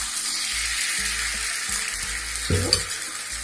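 Ridge gourd dosa batter sizzles steadily on a hot griddle, a close, continuous hissing fry with faint low thumps and a brief louder crackle near the end.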